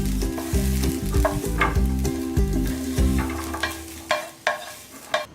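Banana stem is sautéed and stirred in oil, with a low sizzle under background music at first, then crisp spatula scrapes and clicks standing out alone.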